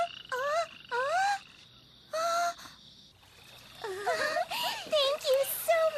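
A toad in a storybook tale gives a run of croaks: three separate rising, voice-like calls spaced apart, then a busier burst of wavering croaks near the end, loud and close.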